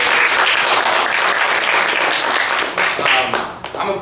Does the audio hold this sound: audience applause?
yes